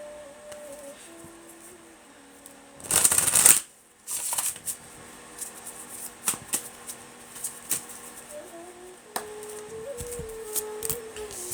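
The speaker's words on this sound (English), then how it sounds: "We're going to shuffle it once more." A deck of tarot cards is shuffled by hand, with a loud riffling burst followed by a second shorter riffle, then softer scattered card taps and slides, close up with faint background music.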